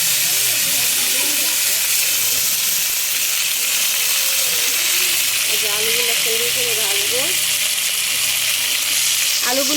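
Potato pieces frying in oil in a home kitchen pan give a steady, loud broadband sizzle and hiss, with someone talking over it throughout.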